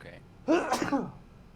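A single sharp, close sneeze bursts out after a short breath, loud and abrupt, then fades into quiet.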